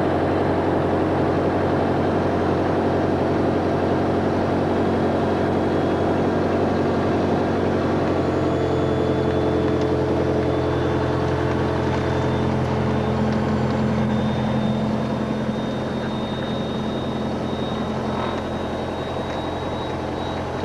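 A propeller plane's engine drones steadily for a long stretch, a low throbbing hum with faint whining tones, constant and moderately loud.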